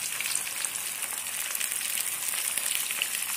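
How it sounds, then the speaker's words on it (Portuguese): Fish frying in a pan of hot oil, a dense steady sizzle with fine crackles and pops running throughout, close and fairly loud with no voices. "Vamos botar o primeiro peixe aqui."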